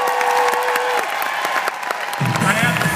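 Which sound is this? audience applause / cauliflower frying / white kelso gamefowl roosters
audience applause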